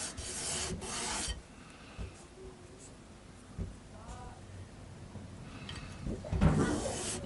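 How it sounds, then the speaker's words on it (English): Quiet, raspy strokes of sandpaper rubbing wood flush on a Vintage V100 guitar, a few brisk passes at the start and end with softer scraping between. "I'm just going to do a tiny bit more sanding."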